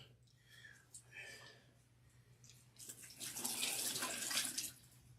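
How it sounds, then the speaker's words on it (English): Warm water running from a portable sink during a hair wash, a faucet stream rising in the second half after quiet speech, close and fairly soft. "I am going to take some warm water"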